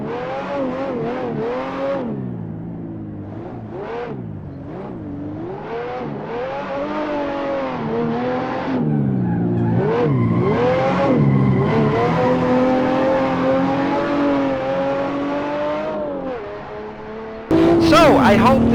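A rear-wheel-drive car drifting in practice revs its engine hard and steadily, the pitch rising and falling as the throttle is worked, loud and close for nearly twenty seconds.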